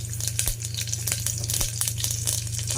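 Curry leaves hit hot oil while tempering for a simple dal rice, giving a steady, close sizzle with a low hum underneath and a few brief pops.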